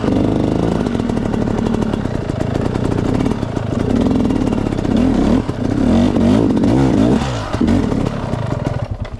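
An enduro motorcycle engine revs loudly and continuously on a slippery downhill trail near Ipo, Bulacan, its throttle rising and falling with a rough, close-up drone throughout.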